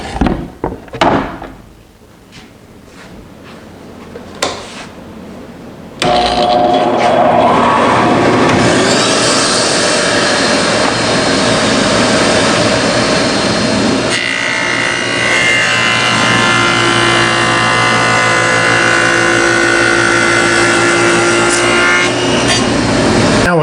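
A power tool cuts dado grooves into plywood bookshelf pieces with a loud, sustained grinding whine that runs unbroken for most of the clip after a few short knocks and scrapes at the start.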